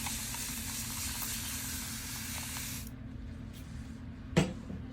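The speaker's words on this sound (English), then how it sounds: "you're going to spray the scalp area with water" A spray bottle mists water onto the scalp area of a hair topper, a steady hissing spray for a few seconds, then a quieter room and a brief sharp knock.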